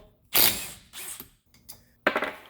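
Three short, close bursts of clicking come from a 12 mm flex-head ratchet working a brake bolt on a 2010 Honda Civic during a front rotor and pad job, with quiet gaps between them.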